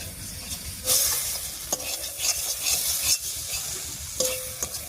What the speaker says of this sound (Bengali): সয়াবিন দিয়ে মশলার সঙ্গে খুব ভালো করে কষিয়ে নিয়েছি। কড়াইয়ের মধ্যে একটু লাগা লাগা হয়ে যাচ্ছে।